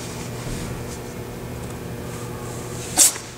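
A cat gives a single short, breathy sneeze near the end, close by, over a low steady background hum.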